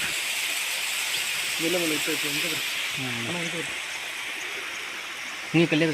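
Water rushes down among rocky hills in the rainy season, a loud, steady broadband roar filling the whole stretch while people talk briefly over it.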